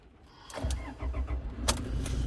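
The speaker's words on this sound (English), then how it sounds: "it fires into action straight away, no issues at all" A diesel 2017 Toyota Hilux 2.4 D-4D automatic pickup starts up: a brief cranking burst, then the engine catches and settles into a steady, close idle with a sharp transient near the end.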